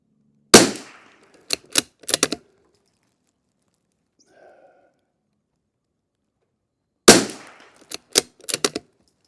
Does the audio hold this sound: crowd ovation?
no